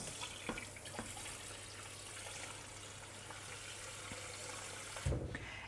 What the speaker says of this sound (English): To wash up this, you just put a little bit of water in there.